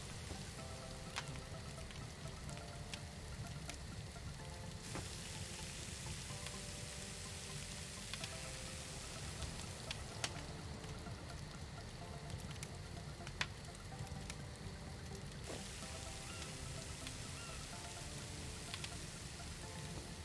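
Steak frying in a pan while cooking in the survival video game SCUM, a steady soft crackling sizzle that holds at a low, even level throughout with no voices.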